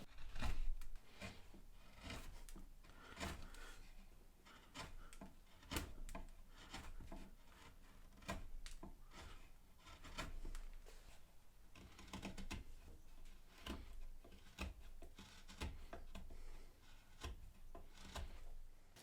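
A chisel and small knife work on oak stool legs, making close, irregular scraping and rasping strokes with short gaps between cuts.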